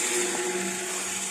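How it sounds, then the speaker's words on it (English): A steady mechanical hum with a constant tonal drone, like a motor running nearby, moderately loud and unchanging. "That's the water pump."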